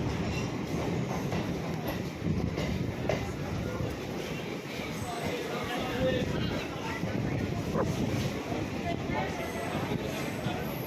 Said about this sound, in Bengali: ট্রেন কিন্তু নির্ধারিত সময় থেকে 9 মিনিট লেটে হাসনাবাদ প্ল্যাটফর্মে এসে পৌঁছালো।